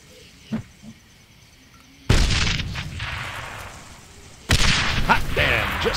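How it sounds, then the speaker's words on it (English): Stick grenade explosions in the video game Darkest Of Days: two heavy booms, each followed by a long rumbling decay, preceded by a few faint pops. "These are standard issue stick grenades. Just aim and let them fly."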